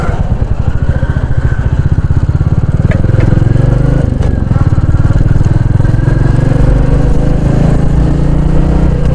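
Royal Enfield Meteor 350 single-cylinder engine on a city ride, a loud, close, steady thumping rumble that rises slightly as the throttle opens, with faint traffic around it.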